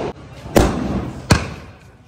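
Two sharp firecracker bursts go off during Diwali, spaced under a second apart. Both are close and loud, with short echoing tails over a low murmur of background noise.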